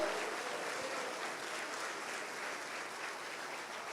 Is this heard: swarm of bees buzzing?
no